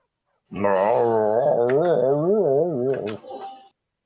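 A dog howls and whines in a long, wavering, high-pitched cry lasting a few seconds, close and loud, ending in a short yelp.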